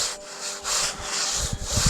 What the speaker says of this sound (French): Je vais faire ça avec la scie, puis je terminerai avec un petit coup de ponceuse.